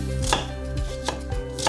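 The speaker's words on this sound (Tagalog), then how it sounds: "Slice natin to sibuyas." A knife slices through an onion on a cutting board, giving three sharp, evenly spaced chops, close and clear with no talking, while Ilocano dinengdeng is being prepared.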